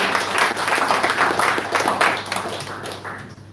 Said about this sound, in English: So let's give Prabhu another round of applause.